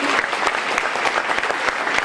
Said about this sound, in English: how about a big round of applause for the wonderful live entertainment that we had right before the ceremony